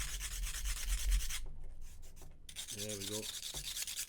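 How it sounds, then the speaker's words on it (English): A small file rasping down a guitar bridge part in quick, close scraping strokes, pausing briefly before one last pass, with a short spoken remark in between. "Nice little quick little filing down."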